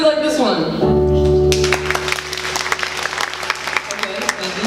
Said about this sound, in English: Okay, clap if you like this one.